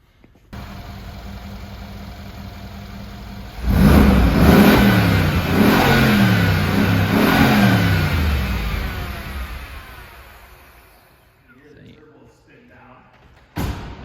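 A 53-foot boat converted to Tesla electric power runs loud and close, with a steady drone that surges into a strong, rising roar before easing off; people talk over it.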